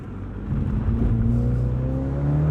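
A 2022 MINI Cooper John Cooper Works Convertible engine revs up under acceleration, its rising drone climbing steadily in pitch and growing louder from inside the car, with no talking.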